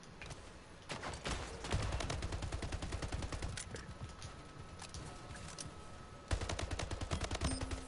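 Rapid automatic gunfire rattles through a Splitgate match, a dense steady stream of close shots that pauses briefly and then resumes loudly, with no talking.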